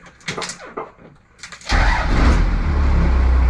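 A fast scooter's solidly mounted engine fires up after some quiet handling noises, settling at once into a loud, steady running drone that continues to the end.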